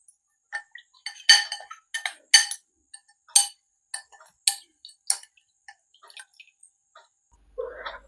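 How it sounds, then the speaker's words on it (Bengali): A kitchen gas stove igniter clicks repeatedly as the burner is lit, sharp dry ticks arriving in an uneven series, close and loud against silence, with a brief whoosh at the end. "গ্যাসটা আমরা জ্বালিয়ে নিচ্ছি।"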